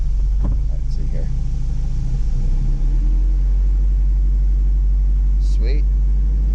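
A car engine, being checked to see whether it will run, idles with a steady, deep, loud rumble throughout, with a brief higher sound near the start and another near the end.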